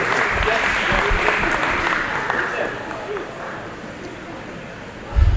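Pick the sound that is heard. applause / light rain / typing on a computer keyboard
applause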